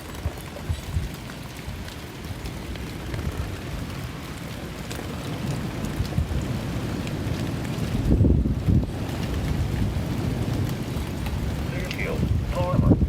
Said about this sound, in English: it just seems kind of like a regular storm right now